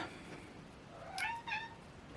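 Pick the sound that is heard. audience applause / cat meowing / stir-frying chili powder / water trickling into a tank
cat meowing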